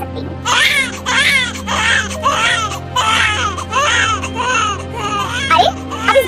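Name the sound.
infant crying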